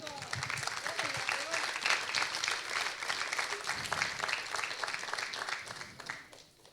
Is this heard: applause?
yes